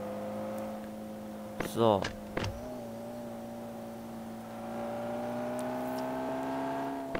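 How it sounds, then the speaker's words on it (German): Taxi engine in the Public Transport Simulator game humming steadily with a rising drone, near and continuous, with a short mechanical whir and clunk early on while someone talks. "mit einem Taxi zu fahren, hier bei Public Transport Simulator"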